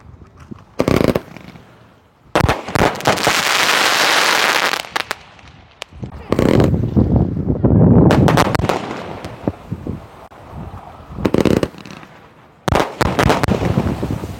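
Sivakasi skyshot fireworks from Harish Crackers are let off outdoors, sharp launch pops followed by sustained loud crackling bursts that come in several separate volleys, with wind noise and people talking in between.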